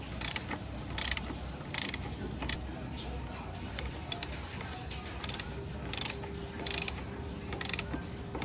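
A 14mm socket ratchet works on an RCB S27 bicycle brake caliper, producing short bursts of rapid clicking repeated about a dozen times at close range, with quiet background sound between them.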